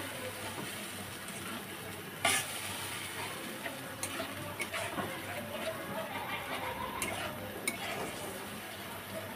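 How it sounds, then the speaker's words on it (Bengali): A spice paste stir-fries in a pan for cow head bhuna, giving a soft continuous sizzle with scattered clinks and scrapes of a utensil against the pot, including a sharper knock early on, all fairly quiet. "গুলিয়ে রাখা মশলার যে মিশ্রণটা রেডি করে রেখেছি সেটা আমি এর মধ্যে ছেড়ে দিচ্ছি, দিয়ে মশলাটাকে ভালো করে কষিয়ে নিব।"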